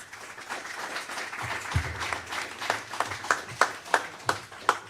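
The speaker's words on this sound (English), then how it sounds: "A round of applause to our speakers." Applause for speakers at the close of a COP28 press conference: a sparse round of individual claps, audible from the start and growing into distinct, separated claps toward the end, with a faint room murmur underneath.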